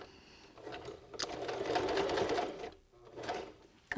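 A sewing machine stitching through thick folds of fabric on a reusable face mask, whirring in close bursts that rise and strain, briefly pause, then run again.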